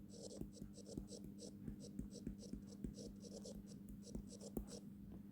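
Pen or chalk scratches out a mathematical equation in quick, repeated short strokes, faint and close, with quiet voice sounds underneath.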